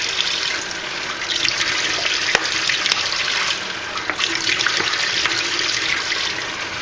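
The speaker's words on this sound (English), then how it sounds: "I'll just fill up these water bottles." Tap water streams steadily into a reusable water bottle at a kitchen sink, a continuous close splashing rush with small fluctuations and no talk.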